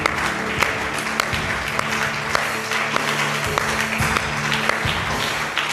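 A church congregation claps together in steady, sustained applause during a worship service, filling the room with a dense, continuous patter.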